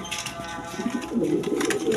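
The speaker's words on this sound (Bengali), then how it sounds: "ইম্পোর্টের কবুতর দেখেন" Imported big-sized pigeons coo in a continuous low, throaty murmur that swells toward the end, steady and fairly close with no talking.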